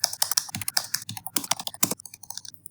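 Rapid, uneven keystrokes clatter on a computer keyboard while C code is typed in a programming tutorial, close and clear with no voices.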